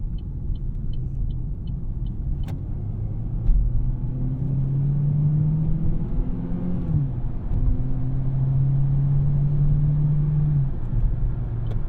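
A 2016 Chevy Cruze Limited engine hums steadily from inside the cabin while passing a semi, with a low road rumble throughout and gentle rising and falling engine tones.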